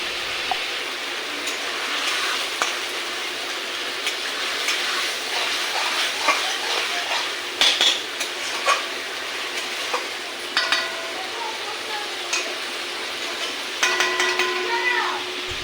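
Paneer and potatoes frying in a pan, a continuous close sizzle with occasional clinks and scrapes of stirring, while a voice talks over it at times.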